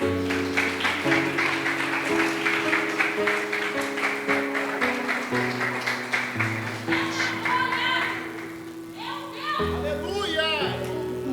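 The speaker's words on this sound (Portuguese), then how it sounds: "Aplauda Jesus." Applause rises in a Pentecostal church service, rhythmic clapping layered over sustained music, with voices and children heard through it as the clapping thins toward the end.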